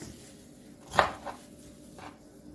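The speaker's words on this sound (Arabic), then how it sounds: "هقطعهم كده برضو بشكل مكعبات" A knife chops bell peppers and onion into cubes on a cutting board, one sharp cut followed by a couple of lighter taps, close by with quiet pauses between.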